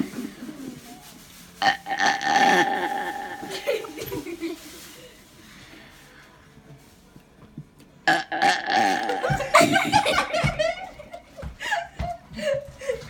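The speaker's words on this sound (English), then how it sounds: "I'm gonna do a longest burp." A seven-year-old child lets out two long, drawn-out burps, each lasting a couple of seconds and separated by a quiet pause, with chuckling and laughter around them.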